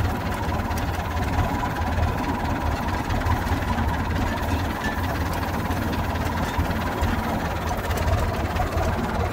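A red tractor drives over stones on a cattle farm, and its engine gives a continuous close, loud low rumble with a knocking vibration. The drone is steady throughout, with no talk.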